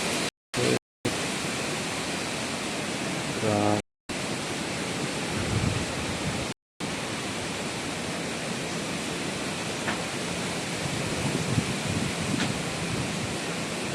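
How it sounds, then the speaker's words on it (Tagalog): Steady broadband rushing of strong wind buffeting in Leyte, loud and continuous, with a few brief dropouts. "Lakas ng hangin no."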